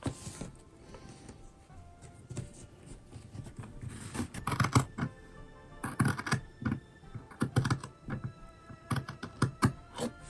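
Scissors snipping through folded fabric while a wallet is cut out for sewing, a run of close, irregular crisp clicks and snips growing busier toward the end, with no talk.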